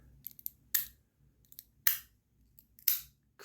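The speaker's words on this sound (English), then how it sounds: "you've got these extra noises every time it moves, right before it snaps. These little subtle, crunchy noises." A Rapt +10 rattle toy gives three sharp clicks or snaps about a second apart, each with a short crunchy tail, with faint small crackles in the gaps between them.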